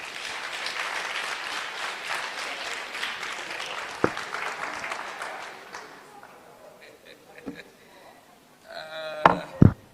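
Audience applause of clapping hands rises in a dense patter at a national address, then thins out and fades, giving way to voices speaking.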